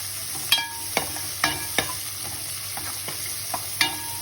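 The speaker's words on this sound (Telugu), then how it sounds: "కొంత మినపప్పు, కొన్ని ఆవాలు, ఇలా బెండకాయ వేసుకోవాలి." Okra frying in hot oil with urad dal and mustard seeds, a soft steady sizzle broken by several sharp scraping stirs of a spatula against the pan, close and clear with no talking.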